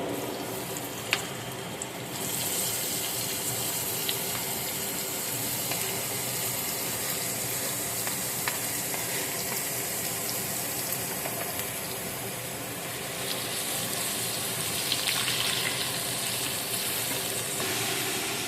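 Chopped onion frying in a pan of chicken for Punjabi rara chicken, a steady, close hiss and crackle of hot oil that holds for the whole stretch, with only a few faint taps and no talking.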